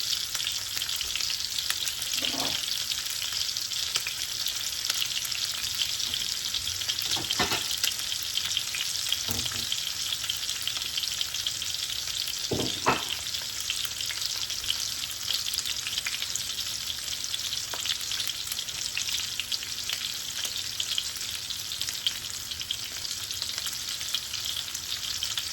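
Cajun pork chops searing in a hot pan, a constant dense sizzle and crackle over the whole stretch, with a few faint clicks and knocks scattered through it and no voices.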